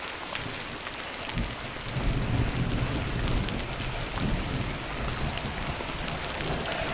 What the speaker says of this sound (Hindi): ओले फटाफट गिर रहे हैं